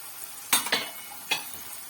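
A large ladle stirs a spinach and egg mixture in a pan, giving three quick scraping clacks, two close together and one shortly after, near and distinct over a quiet background hiss.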